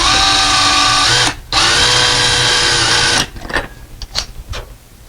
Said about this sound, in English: then we hold our bracket where we want it to be mounted, and we'll screw it down